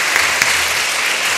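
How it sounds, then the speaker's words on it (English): Audience applause at a youth leaders summit panel session, a steady dense burst of clapping heard alone and fairly loud throughout. "Let's give a round of applause to you."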